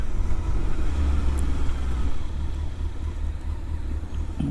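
A Honda CBR900RR motorcycle engine idles and runs with a steady low rumble, close and continuous, easing slightly in level partway through.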